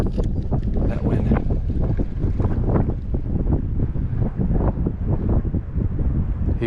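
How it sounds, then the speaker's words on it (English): Strong gusting wind from a tropical storm roars steadily into the microphone on a fishing trip by the water, loud and buffeting throughout with no clear speech. "This wind is ripping."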